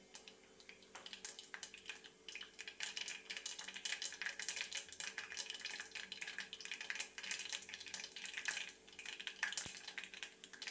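Crushed fenugreek and cumin fry in a pan for rasam, giving a faint, steady crackle and sizzle with scattered small pops throughout.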